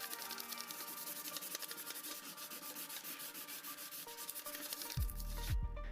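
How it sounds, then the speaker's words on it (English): Sandpaper rubbed back and forth across a flat sheet cut from an aluminum beverage can, a steady close rasping scrape in quick strokes, ending with a brief low thump. "One side needs to be sanded a little with sandpaper."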